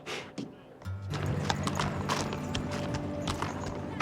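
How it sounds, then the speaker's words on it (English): A horse's hooves clip-clop in a steady walking rhythm at close range, with a few faint background voices and low ambient rumble. "That's a big horse"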